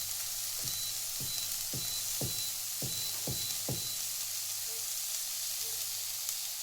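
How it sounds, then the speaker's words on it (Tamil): Onions or spices sautéing in a pan for channa masala with green peas: a steady, close hiss of frying oil broken by a quick run of sharp spatula scrapes and taps, with no one speaking. "இது வந்து அடி பிடிக்காமல் நல்லா வதக்குவோம்"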